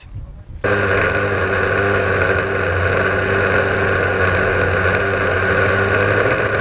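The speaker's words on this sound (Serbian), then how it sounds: "ja i profesor Srđan Bolozan smo napravili ovaj brod." A small model boat motor starts abruptly and hums steadily at a constant high pitch, close by, with no talking over it.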